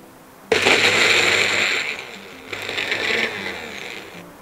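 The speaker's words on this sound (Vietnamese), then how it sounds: "Bây giờ mình sẽ cho hành tỏi vào xay nha mọi người." An electric grinder whirs loudly in two bursts chopping shallots and garlic, a long run and then a second one after a brief pause, with a gritty chopping rattle.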